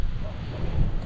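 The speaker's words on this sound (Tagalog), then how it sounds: "Malakas ang hangin." Strong wind buffets the microphone outdoors in rainy weather, a steady low rumble with gusts swelling near the end and no voices.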